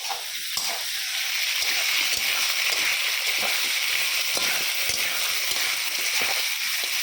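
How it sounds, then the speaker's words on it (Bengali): Vegetables with shrimp fry in a pan, a steady close sizzle and hiss with faint stirring scrapes, continuous and moderately loud. "এটা ভালো ভাজা হচ্ছে।"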